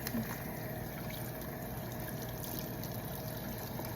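Tap water runs steadily from a faucet for handwashing, a continuous even splashing stream, close and fairly quiet, with no speech over it.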